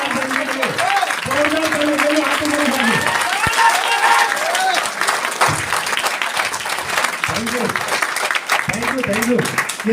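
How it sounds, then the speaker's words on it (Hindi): Audience applause for Pradeep Kumar Jain at a Republic Day school event, a dense, steady wash of clapping that runs the full length, with a voice speaking over it in bursts. "एक बार तालियां प्रदीप कुमार जैन जी के लिए"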